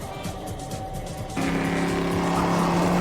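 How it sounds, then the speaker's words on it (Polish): An armored car with a mounted gun drives out in a Skibidi Toilet animation, its engine rising into a loud, steady roar that kicks in abruptly partway through and holds to the end. "O, proszę, wyjeżdża tutaj samochód."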